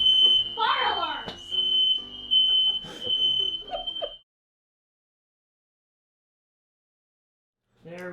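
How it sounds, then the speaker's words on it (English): A piercing, steady high-pitched smoke alarm beeps continuously while Thanksgiving cooking goes on, with people talking over it. It cuts off abruptly into silence before a brief voice returns at the end. "Fire alarms."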